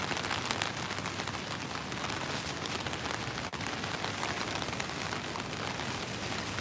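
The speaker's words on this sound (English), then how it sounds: "You can hear the rain pitter-patter on my umbrella right now." Rain patters steadily on an umbrella close by in a Ginza alley in Tokyo, a dense, even crackle of drops with no voices.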